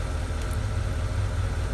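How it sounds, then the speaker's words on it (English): A Porsche Cayenne 957 idles with its on-board air compressor running, a steady low engine hum and an even mechanical drone held at constant level close by. "Engine's running, so the compressor should be running."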